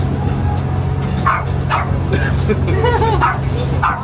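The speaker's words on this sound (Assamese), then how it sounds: "ধুনীয়া কুকুৰ এটা আছে মস্ত ডাঙৰ" A large dog barks a few times on a Singapore island where a boat is moored, with short barks spaced out over a low steady hum while people talk.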